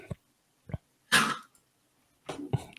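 A dog hacks or coughs nearby in a few short, rough bursts separated by quiet gaps, with one louder, longer fit in the middle and no talk.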